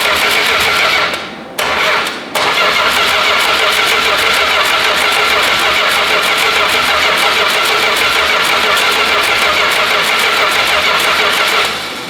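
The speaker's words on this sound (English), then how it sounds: "It's going to short out the starter to make it crank over." An engine with electronic ignition is cranked over by shorting the starter, making a loud, continuous mechanical churning that does not catch, broken by two brief pauses early on, then running steadily before trailing off at the end.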